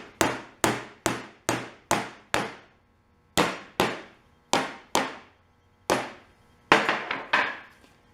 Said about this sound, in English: I guess it helps if you hammer it all the way in.